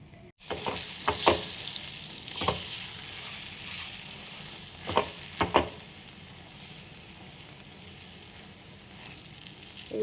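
A potato vegetable curry seasoned with turmeric, chili, cumin powder and salt sizzles steadily in a pan. Occasional scraping stirs cut through the constant frying hiss, close and loud, with no voices.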